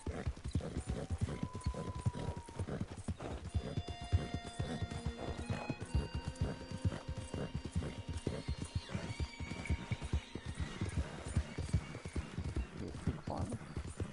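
Video game horse hooves clip-clopping in a quick, steady rhythm throughout, with occasional whinnies and background game music tones layered over the trotting.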